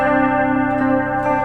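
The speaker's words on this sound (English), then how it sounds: "Next we have the major second interval." An electric guitar with chorus and echo effects sounds a major second interval, two notes ringing together in one loud, sustained, shimmering tone.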